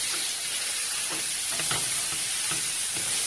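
Andouille sausages sizzle in a hot skillet, a steady close frying hiss with a few faint pops and scrapes, no talking.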